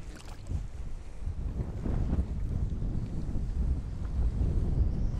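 Wind buffets the microphone on a fishing boat out on the water as the wind picks up: a steady low rumble and rush that builds slightly, with no talking.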